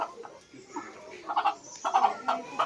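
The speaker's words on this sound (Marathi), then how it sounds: "पूर्ण गावठी कोंबडा." A village country rooster clucks in short repeated bursts, close and moderately loud, with a few faint background sounds between calls.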